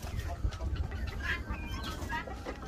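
Chickens and guinea fowl in a farm coop cluck and chatter continuously nearby over a low steady rumble, with a few sharper calls standing out.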